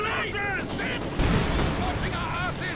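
Maxim machine gun fire in the Company of Heroes 2 video game, a dense rattle of bursts mixed with other battle noise, heard under steady talk.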